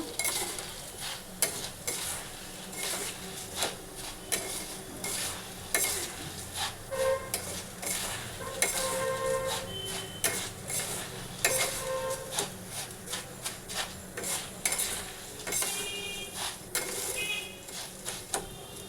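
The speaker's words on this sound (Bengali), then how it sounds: "চিঁড়েটা ভালো করে বন্ধুরা ভেজে নিয়ে তারপরে আপনাদেরকে আমি দেখাচ্ছি।" Flattened rice (chira) frying and being stirred in a pan, a continuous crackling sizzle broken by frequent scraping clinks of a spoon against the metal, busy and close throughout.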